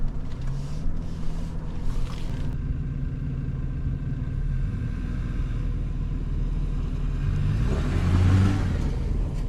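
A Toyota Land Cruiser drives downhill off-road in normal traction mode, its engine a steady low rumble heard from inside, with a brief rise in engine note near the end.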